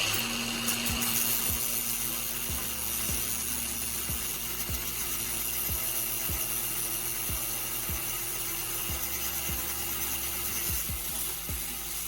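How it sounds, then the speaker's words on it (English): Grinding of roofing screw ends to sharp points with a power tool, a steady high whine with regular scraping strokes roughly every half second, close and fairly quiet with no talk. "I'm repeating this process with the other end of the screw as well, making sure they all have sharp points for maximum effectiveness"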